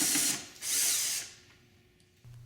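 A power drill runs in two short whirring bursts while backing out screws from the trunk latch hooks on a Goldwing 1800 motorcycle, then falls to a low hum and a brief mechanical whine at the end.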